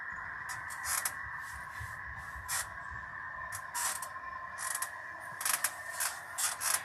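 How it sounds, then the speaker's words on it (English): A worn-out office chair squeaks and creaks in repeated short bursts close to the mic, over a steady background hum. "if you're wondering what that squeaking is, that's my chair, because the chair sucks"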